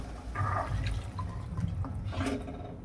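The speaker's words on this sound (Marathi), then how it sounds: "त्यात आपण आता 1 कप असं गरम पाणी ॲड करूया." One cup of hot water poured into chicken masala, a short liquid splash and gurgle close by, steady for a few seconds.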